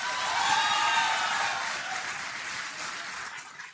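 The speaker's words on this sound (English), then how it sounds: "I think second and truly deserving round of applause goes to your professors" Applause from a convocation audience honoring the professors, a dense, steady wash of many hands clapping that stays loud before gradually thinning and softening toward the end.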